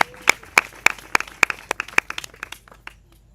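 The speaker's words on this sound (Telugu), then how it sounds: "చప్పట్లు కొడదాం మరొకసారి." A church congregation claps in a quick, even rhythm of sharp, close claps that keep the beat for a few seconds, then scatter and fade out toward the end.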